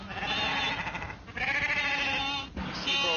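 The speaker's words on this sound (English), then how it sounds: "Sheep all over the road, damn silly things." A flock of sheep crowds a road, bleating loudly and continuously in overlapping calls, several animals close by with brief pauses between bursts.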